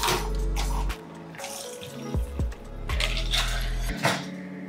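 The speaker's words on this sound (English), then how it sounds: "Grab a cold glass with ice, and we're gonna strain it." A cocktail of Campari and tequila is strained from a shaker into a cold glass with ice, a short liquid pour with clinks and rattles of ice, close and fairly loud.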